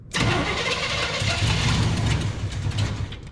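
A 1973 Chevrolet C10 big block engine cranks and fires, then runs loud and rough close by for about three seconds with a deep, steady rumble.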